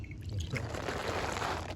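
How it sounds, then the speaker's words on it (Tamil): Water is sprinkled over banana leaves spread out for a meal in an outdoor garden, a steady close splashing and pattering wash that runs continuously with no talk over it. "நல்லா தண்ணியை தொளிச்சாச்சு"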